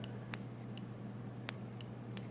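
Sharp, faint clicks of a small mini bike brake switch repeat several times at irregular intervals over a low steady hum.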